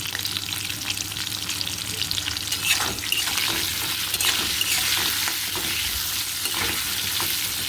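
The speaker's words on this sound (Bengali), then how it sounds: "পটলগুলো একটু লাল লাল করে সামান্য নুন আর হলুদ দিয়ে ভেজে নেব" Steady sizzling of pointed gourd frying in hot oil with salt and turmeric, with occasional stirring scrapes, continuous and close.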